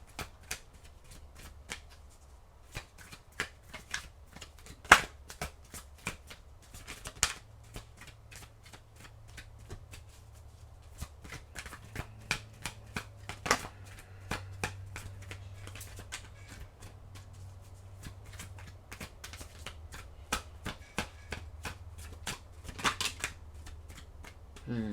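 Tarot cards shuffled in soft, scattered riffles and flicks across a long stretch, quiet and close, with a person talking at times in the background.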